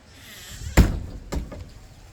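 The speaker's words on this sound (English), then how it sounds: "Shut the door when we talk to you." A door is shut indoors with a loud, sharp thud, followed half a second later by a softer second knock as it settles.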